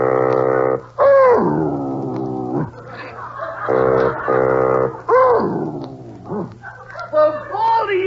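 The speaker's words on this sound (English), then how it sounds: "Singing dog." A dog howls along to bassoon music, long drawn-out wavering howls rising and falling in pitch over a steady instrumental drone, loud and close.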